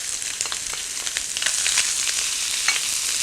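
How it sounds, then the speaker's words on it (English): Prawns and peas stir-fry in a wok with a loud, continuous sizzle and frequent quick scraping and tossing clatters. No voices are heard. "Stir fry this around until it's well mixed"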